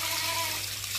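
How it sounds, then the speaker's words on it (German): Water runs into a tub to rinse children's toys, a steady, fairly loud gushing pour heard close up with no talking. "das Spielzeug bissle reinigen, da bissle Wasser reinlaufen lassen"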